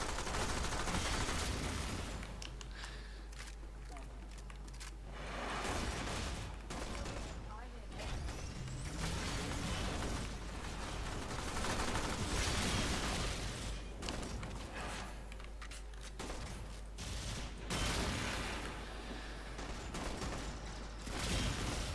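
Rifle fire during a mobile defense mission in the video game Warframe, with Mag Prime fighting: dense bursts of rapid gunshots and mechanical clatter that come and go across the clip, under a player's talk.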